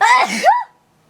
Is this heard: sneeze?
yes